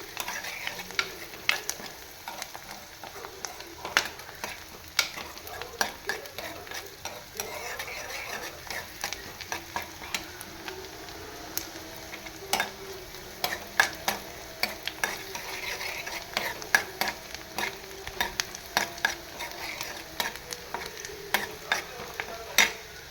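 Onion sautéed over a medium gas flame for a cashew and potato bhaji, a gentle continuous sizzle punctuated by frequent sharp clicks of a spoon stirring against the pan, no one speaking.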